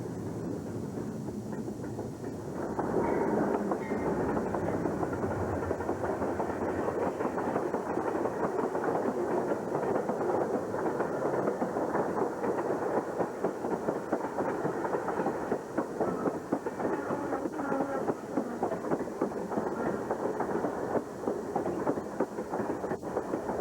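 Santa Fe Warbonnet passenger train slowing on a siding in falling snow in the high desert, a steady low rumble and rolling grind with faint wheel clatter that holds for over twenty seconds.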